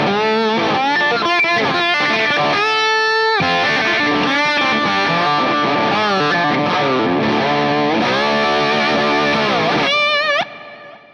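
A three-piece mahogany electric guitar plays through a distorted amp at full volume with the boost off, giving heavy, saturated sustained chords and riffs that end with a ringing decay.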